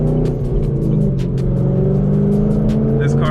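A 5th-generation Chevrolet Camaro SS with a loud aftermarket exhaust rumbles close by, a deep steady V8 drone with a slight throttle rise, and a voice talks over it.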